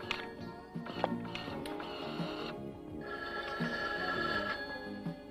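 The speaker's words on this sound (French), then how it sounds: "J'ai l'impression que cette sonnerie tape sur les nerfs de Robose." A telephone rings steadily in an indoor scene from the 1980s crime series Riptide, its repeated electronic trill sounding at moderate volume over a busy background, with brief clicks mixed in.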